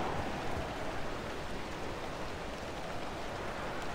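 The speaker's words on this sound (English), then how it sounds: "And of course it's raining." Rain in the video game Pacific Drive, set in the Pacific Northwest, a dense, steady hiss of falling water that holds an even level from start to finish with no talking.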